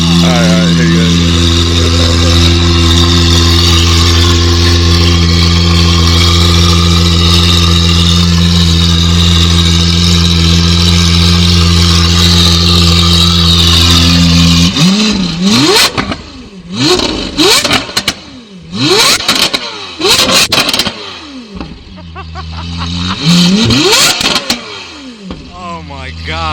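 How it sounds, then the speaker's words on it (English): Lamborghini Aventador SV with an aftermarket exhaust, idling loudly at first, then blipped in a string of sharp, very loud revs with crackling pops between them, close up, with people talking over it. "You want me to rev it? All right, here you go."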